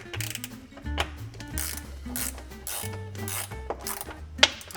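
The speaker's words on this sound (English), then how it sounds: "just use a ratchet" A hand ratchet tightens a compression nut on a Toyota Sienna Hybrid awning mount, giving a close, steady mechanical clicking over several short strokes with brief pauses between them.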